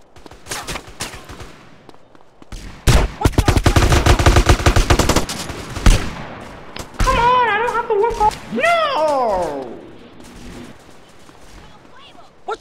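Bursts of rapid automatic gunfire crackle through a GTA Underground battle against the Ballas, with a dense volley in the middle, shouting voices and a wailing siren-like tone afterward.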